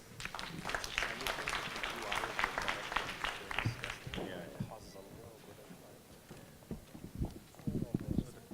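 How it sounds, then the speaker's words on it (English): An audience applauds at a university business case competition, a dense burst of many hands for about four seconds that thins out as a voice begins speaking, with scattered claps returning under the talk. "A round of applause,"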